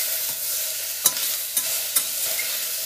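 Salted vegetables for moong dal sizzle in a pan with a soft steady hiss, broken by three sharp spoon-against-pan stirring scrapes, close and without talk.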